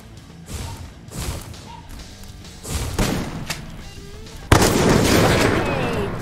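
Inside the Free Fire battle-royale game, a grenade blast and gunfire go off: a few scattered thumps and shots first, then a sudden loud explosion that leaves a sustained roar of debris and noise.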